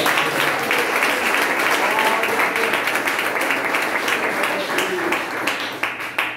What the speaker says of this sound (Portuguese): Bate palmas para Deus.